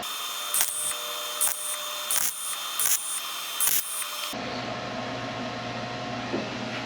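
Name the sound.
tack welding sheet metal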